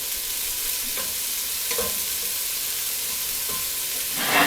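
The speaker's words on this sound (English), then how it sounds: "So, we're going to let these saute up." Vegetables sauté in a pan with a soft, constant sizzle and a few brief stirring clinks, ending in a louder burst of frying noise, with no talking.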